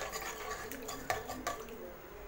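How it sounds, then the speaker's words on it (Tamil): A spoon stirs water, shallots, tomatoes and salt in a pressure cooker for instant sambar, with soft sloshing and a few sharp metal clinks against the pot, close and moderately loud. "தண்ணி ஊற்றிட்டு இதை நல்லா கலந்து விட்டுடலாம்."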